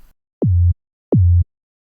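Two short synth tones, each starting with a quick downward pitch sweep into a low buzzy hum, separated by silence.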